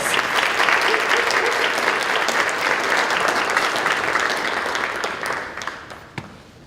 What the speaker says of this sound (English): let's really receive Deborah with a nice warm applause